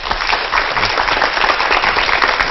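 Lively audience applause welcoming a lecturer, dense steady clapping from a hall full of listeners throughout.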